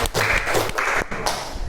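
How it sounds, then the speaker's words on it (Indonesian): Classroom applause for two students, Sophia and Kartika, a dense burst of many hands clapping together, loud and close, swelling and easing in short waves over under two seconds with no talk. "Tepuk tangan untuk Mbak Sophia dan Mbak Kartika"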